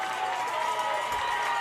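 Crowd at a youth football championship game, Etobicoke vs Brampton, cheering and clapping for the Bulldogs, a dense, loud, continuous roar of applause with some voices mixed in.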